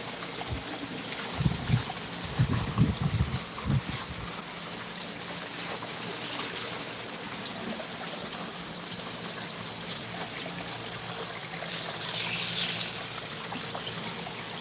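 Water trickles and gurgles while a garden pond fills and overflows, making a steady, low wash with a few louder splashing bursts early on and no talking.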